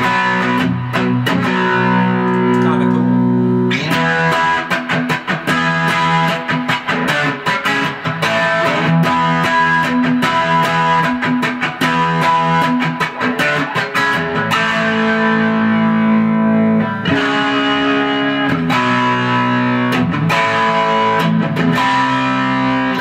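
Heavily distorted Suhr Classic Antique electric guitar plays chunky chords and riffs, loud and sustained throughout with a thick, gritty tone and no voices.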